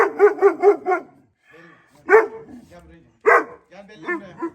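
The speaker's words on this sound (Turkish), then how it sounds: "Valla Bella böyle havlamıyordu arkadaşlar" A Jack Russell terrier barks close by in a rapid burst of four sharp barks, then gives single yips and whimpery barks in between. A person speaks softly in the pauses.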